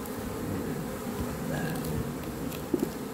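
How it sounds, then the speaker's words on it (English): Honey bees buzz continuously around a hive on a 10-degree day, a dense close hum with a few louder individual bees passing by. "it's 10 degrees outside, but the bees are happy"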